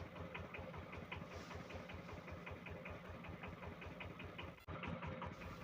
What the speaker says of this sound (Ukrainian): Ось так працює наш сам генератор